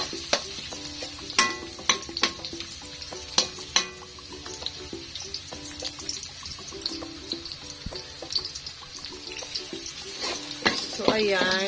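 Onion and ginger fry in a pan for Filipino octopus adobo in coconut milk, making a continuous close sizzle broken by frequent sharp clicks and scrapes of stirring, with a louder burst of sizzling toward the end.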